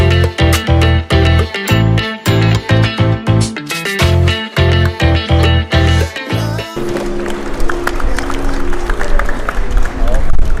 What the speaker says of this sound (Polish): już widzę, że tutaj mi klaszczą, jak przychodzę